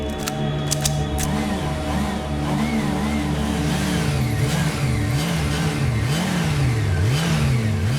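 A police motorcycle engine revs up and down repeatedly on a Manila street in a steady, loud drone, its pitch rising and falling in waves.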